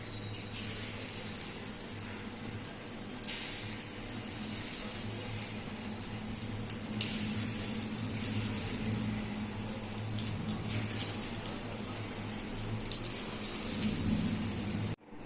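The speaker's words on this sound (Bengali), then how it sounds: "এবার আমি পেঁয়াজি ভাজবো।" Onion fritters (piyaji) deep-frying in hot oil, a steady, dense hiss and crackle of bubbling fat running unbroken from start to finish with no talk.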